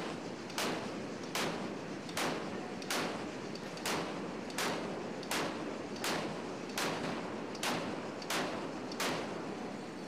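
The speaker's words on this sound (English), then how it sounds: "The 4-inch cannons also got a workout. The firing of these guns ensured accuracy and mechanical reliability were up to scratch." 4-inch naval cannons fire in the Sea Power naval game, about a dozen sharp booms evenly spaced less than a second apart, each followed by a short rumble, with no talk.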